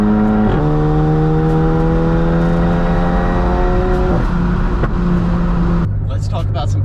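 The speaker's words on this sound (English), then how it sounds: "this turbo makes so much noise in comparison to the IS-20." A VW MK7 GTI fitted with a big turbo and new tune pulls hard on a closed highway in Mexico from about 70, its loud engine note climbing through several gear changes, heard from inside the car.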